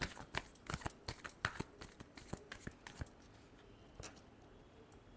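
Tarot cards being shuffled by hand, a run of crisp, rapid riffles and snaps close up for about three seconds, then only a faint rustle.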